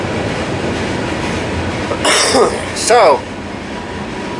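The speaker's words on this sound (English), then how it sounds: "Wish that train wasn't so noisy outside" Train rolling past outside beside a rail yard, a steady low rumble through the whole stretch with brief louder squeals or horn-like tones near the end, while a voice speaks a single word.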